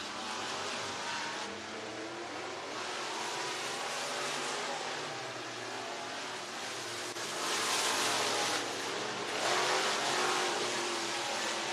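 Super Dirt Late Model race car engine at the Talladega Short Track during qualifying, a steady broadband roar that swells louder toward the end, heard alone without talk.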